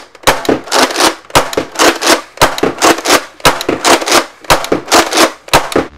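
A Nerf Rival Atlas blaster fires rapidly with loud, close shots, each crack paired with a mechanical clack, repeating in an even rhythm of roughly two per second for six seconds without any voices.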